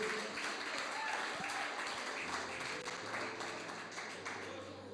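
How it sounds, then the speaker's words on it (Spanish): A church congregation breaks into applause, a dense wash of clapping that carries on for several seconds before slowly tapering, with voices mixed in. "Démosle un aplauso a Leo, mire."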